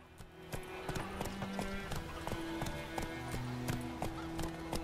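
Rapid hoofbeats of a galloping horse in The Witcher 3: Wild Hunt pound steadily over a dense layer of game music and ambient noise, with occasional whinnies.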